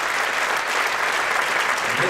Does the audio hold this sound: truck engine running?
no